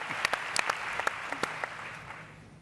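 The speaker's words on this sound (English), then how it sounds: "I think they want to clap for that, Jay." A small conference audience claps briefly, scattered individual hand claps close by that thin out and fade over a couple of seconds.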